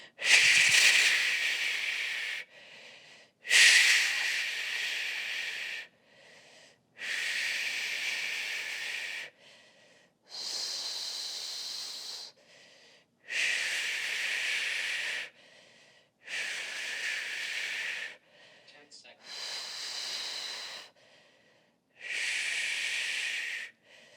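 Loud, forceful breaths in and out during a dead bug core exercise on a bench, repeating as about eight long hissing bursts with short gaps between them, close to the listener with no talking.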